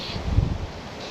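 A brief gust of wind buffets the microphone while fly fishing for trout and salmon on a river, a low rumbling swell that peaks near the middle and eases off, with no voices.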